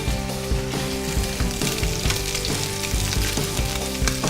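A fish roll fries in avocado oil, giving off a loud, steady, close sizzle with crackling pops throughout and no talking.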